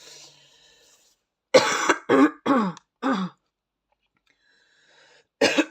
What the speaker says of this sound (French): Temps de tousser un petit peu